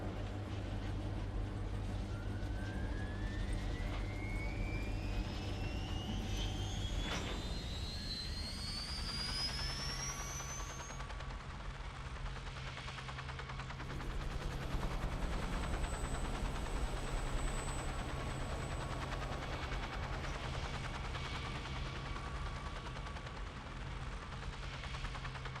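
Helicopter lifting off in the video game Wasteland 2, a steady rotor and engine drone rising in pitch with whining sweeps, loud and continuous, with no voices over it.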